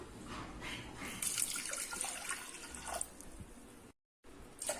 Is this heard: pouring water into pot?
yes